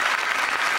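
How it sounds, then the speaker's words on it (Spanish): An audience at a comedy show bursts into steady applause, a dense, loud wash of clapping that fills the short moment without pause. "Aplaudan cuando quieran"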